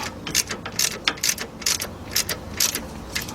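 A hand ratchet tightening the bottom bolt on the rear brakes of a 2005 Chevy Suburban, giving rapid bursts of close, crisp metallic clicking in an uneven stop-and-start rhythm, with no talk.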